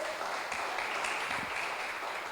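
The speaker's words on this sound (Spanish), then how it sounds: "Regálele un aplauso esta noche al Señor." Congregation applauding in a church, a steady wash of many hands clapping at moderate volume throughout.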